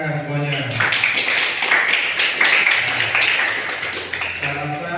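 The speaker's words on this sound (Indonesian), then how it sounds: "Tepuk tangan semuanya" A classroom of students applauds during a teaching-practice lesson. A short burst of clapping swells in the middle, and a teacher's voice comes before and after it.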